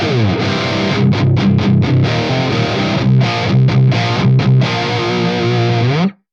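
Loud distorted metal guitar riff through a Fractal AX8 with a 120 Hz low cut, chugging palm-muted rhythm and lean, thinned bass, closing on a held chord that stops abruptly.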